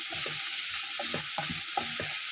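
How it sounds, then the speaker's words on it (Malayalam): Onions sauté in a pan for a mushroom masala curry, with a steady close sizzle and a few scraping stirs of the spatula over it. "സബോള ഇട്ട് കൊടുത്തിട്ടുണ്ട് ഇനി ഒന്ന് വഴറ്റാം"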